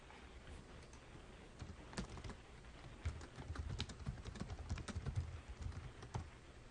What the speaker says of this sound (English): I see you typing in the background on notes